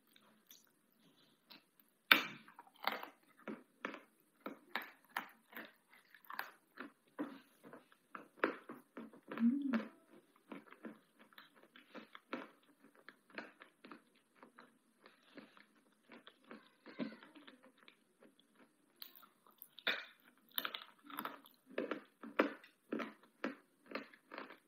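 Blue Ural potato chips crunched close to the mic in a quiet room, a long run of crisp, irregular bites and chewing with short pauses between mouthfuls.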